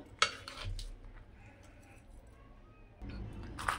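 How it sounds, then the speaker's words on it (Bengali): A spoon scraping and clinking in a pan as vegetables are mixed into homemade veg fried rice, with a few sharp metallic knocks at the start and end and a faint soft stir between. "এবার সবজিগুলোও ভাতের সঙ্গে মিশিয়ে নিব। আর ভালো করে মাখিয়ে নিব।"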